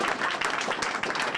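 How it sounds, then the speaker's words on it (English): Audience applause at the opening of a community teen center in Boston, a steady dense wash of clapping filling the short moment without pause. "Give them a round of applause."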